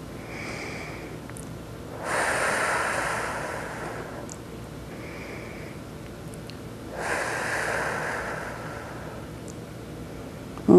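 Heavy, slow breathing during a stretching and mobility exercise with the abdomen held tight, two long audible breaths close to the microphone, each lasting a couple of seconds with quiet pauses between.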